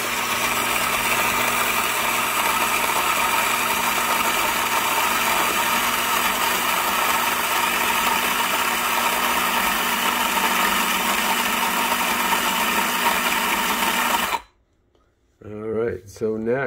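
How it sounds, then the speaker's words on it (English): An electric coffee grinder grinds beans into a pot for pour-over coffee, a loud, steady, high-pitched whir running for about fourteen seconds before cutting off abruptly, followed by someone speaking. "Make sure you have your beans in. Make sure the pot is under the grinder."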